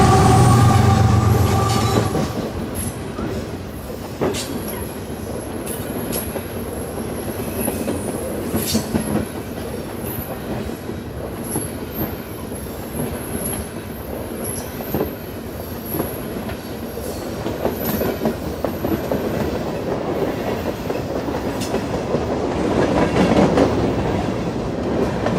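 A Canadian Pacific freight train with loaded trash gondolas and intermodal containers rolls steadily northbound past a mill. A continuous rumble of wheels with rhythmic clicks and occasional squeals runs throughout, fairly loud and close, with no talk.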